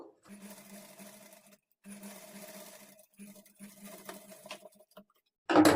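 A sewing machine stitches a halter-neck blouse seam at a half-inch margin in short, steady bursts separated by brief pauses, fairly close, ending with a sudden louder clatter.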